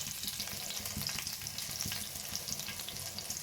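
Garlic with fennel seeds frying in hot oil for a broccoli dish gives a continuous fine crackling sizzle, fairly soft and even, with occasional light pops and utensil taps.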